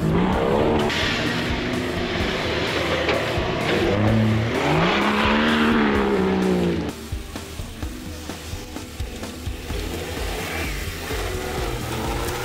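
A white Nissan Patrol off-road racing car roars loudly nearby at an off-road event, its engine revving and rising in pitch before dropping to a rougher, pulsing drone as it slides.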